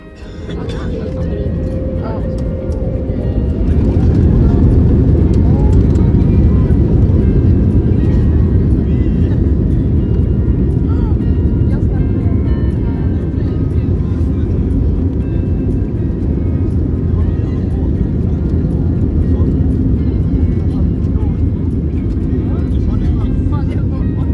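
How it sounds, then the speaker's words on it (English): An SAS Airbus A320 airliner on its takeoff roll departing Barcelona, heard from inside the cabin as a loud, steady engine roar that swells within the first few seconds and then holds for the rest of the run. "We're now fully ready for departure, and the commentary will continue once we are airborne."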